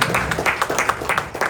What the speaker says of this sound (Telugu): అందరూ చప్పట్లు తట్టి దేవుని నామమున